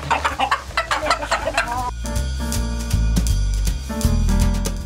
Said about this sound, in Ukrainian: тут мешкають породисті. Китайські шовкові. Їх вважають найгарнішою породою серед інших.